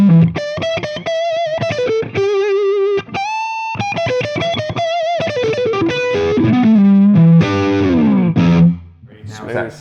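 An electric guitar through a DrZ Maz MKII amp, master turned down and volume cranked, plays overdriven notes and chords, loud and close, with sustained bends and runs before fading at the end.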